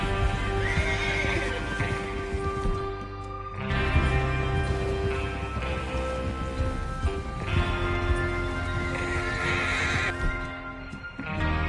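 Horses gallop with heavy, continuous hoofbeats while neighing rises repeatedly over the pounding, loud and close, in the game Red Dead Redemption 2.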